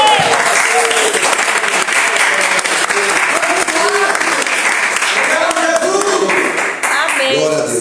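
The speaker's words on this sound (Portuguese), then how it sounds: "desocupa as suas mãos e dê uma salva de palmas" A church congregation breaks into loud, sustained applause, a dense roar of many hands clapping close and continuous, with voices mixed in beneath the clapping.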